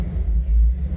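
A 1956 Ford flatbed truck's small motor idles with a deep, steady low rumble, close and loud for a brief moment with no talking.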